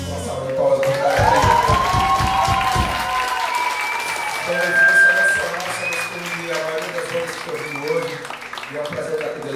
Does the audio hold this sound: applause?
yes